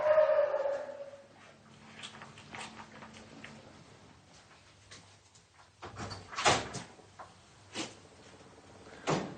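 At an animal shelter, a dog lets out a short bark or whine at the start, followed by scattered knocks, thumps and door or cupboard sounds, with a louder burst of clattering movement later.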